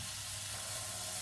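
Kofta sizzles in hot oil in a frying pan, a steady, close, crackling hiss with no talk over it.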